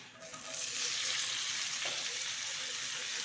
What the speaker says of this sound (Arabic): درك نقليها مليح